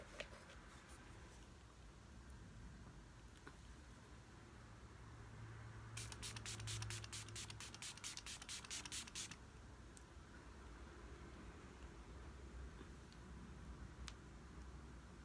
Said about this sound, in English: I'm going to be taking my Milani Make It Last setting spray.